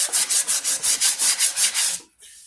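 Hand sanding wood along the grain on a .50 caliber St. Louis Hawken rifle stock, about eleven quick, even back-and-forth strokes that are close and loud, then stopping.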